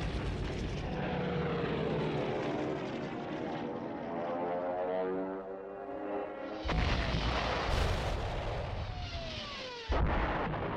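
German Stuka dive bombers of WWII attacking French tanks: a loud, sustained propeller-engine roar with a falling whine, then two sharp heavy booms near the end, no talk.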